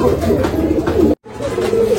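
Rampuri pigeons coo in a loft, a close, loud, continuous low burbling interrupted by a brief dropout.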